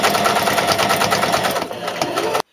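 Sewing machine stitching over opened seams on a floor cloth panel sewn to its lining, a loud, close, steady mechanical whir with rapid rhythmic pulsing that cuts off sharply at the end.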